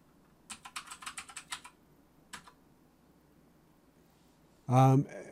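Someone types a password on a Mac computer keyboard in a quick run of close key clicks, followed by a single stray tap. A brief voice sounds at the end.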